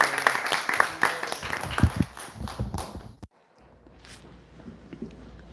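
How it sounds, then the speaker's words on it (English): Audience clapping to welcome a speaker at a spiritual talk, uneven and fairly close, that stops abruptly and gives way to a quiet room. "let's give a big round of applause and join me in welcoming Prabhu"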